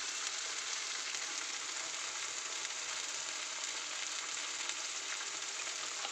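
Tomatoes and spices fry in a pan with a loud, steady sizzle that stays close and even throughout, with no voices.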